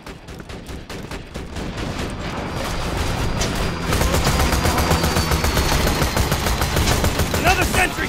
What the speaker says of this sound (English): Autogun's wrecking face! That's right, let her mow you down!